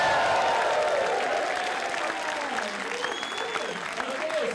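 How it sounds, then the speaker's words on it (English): A screening audience at a Canal Plus show whoops and claps together on cue, a loud burst of cheering and dense applause that slowly thins out, with rising and falling shouted voices. "On the count of three, let's do like, woohoo, and clap"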